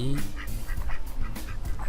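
A goose or duck in the video game Bear Simulator lets out a few short honking calls near the start, followed by scattered game sounds and rustling.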